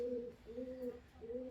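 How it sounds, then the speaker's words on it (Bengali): A Malwai female pigeon gives three rhythmic, soft rolling coos, evenly spaced and fairly faint, with no other sound around them. "এটা কিন্তু একটা মালওয়াই মাদি পায়রা"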